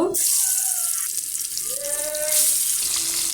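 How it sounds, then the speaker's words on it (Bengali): Fish dropped into hot oil in a pan set off a loud, close, steady sizzling hiss that carries through the whole stretch without pause. "তেলটা গরম হয়ে গেছে এখন আমি এখানে মাছগুলোকে দিয়ে দিব"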